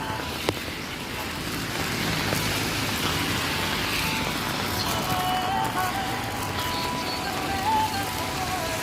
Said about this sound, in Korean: 아, 딱 비가 많이 오네요. 뭔 비가 이렇게 올까요?